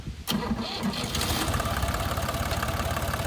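A vehicle engine cranks and catches while left in gear, turning over and settling into a steady, loud, close running rumble during a pumpkin harvest loading.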